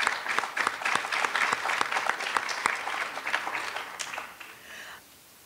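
An audience applauds at a talk on Bermudian history, a dense burst of many hands clapping that stays strong for several seconds and then fades out.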